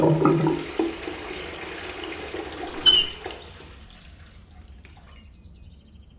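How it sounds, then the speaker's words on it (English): Water runs and trickles into a goldfish bowl indoors, with a brief louder splash or squeak midway, then fades to faint dripping and near silence. "Sounded like running water."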